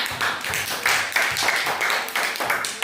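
Classroom applause for a student group, a dense patter of many hands clapping steadily throughout, fairly loud and close, with no clear speech over it.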